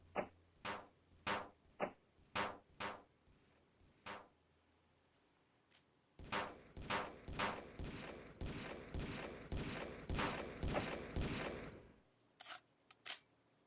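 Gunfire in the video game Mad Combat Marines: a series of separate sharp shots for about four seconds, a pause, then six seconds of loud, rapid sustained firing, ending with two final isolated shots.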